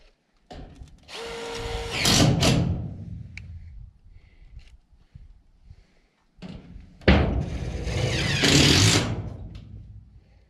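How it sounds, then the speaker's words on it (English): A power drill driving screws into a greenhouse frame, two whirring bursts of a few seconds each that rise in pitch and grind to a stop, separated by quieter pauses with small knocks, close by and without talk. "We'll just put more screws in the bastard, that's all."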